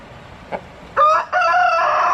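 A rooster, either a Rhode Island Red or a gamecock, gives one loud, close crow in a backyard flock, a strong drawn-out call following a brief cluck, with no talk over it.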